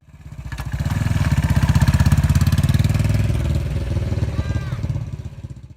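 A Yamaha SR500 single-cylinder thumper motorcycle engine runs close by, a loud rhythmic pulsing beat that swells in, holds steady, then eases off with a faint whine near the end.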